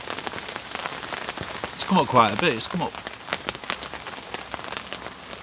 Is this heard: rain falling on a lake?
yes